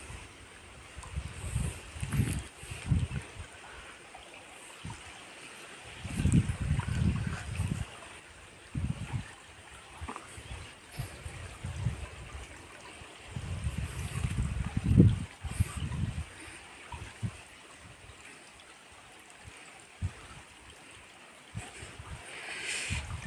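Natural hill stream water runs steadily in the background, a soft continuous flow with bursts of low wind rumble across the microphone.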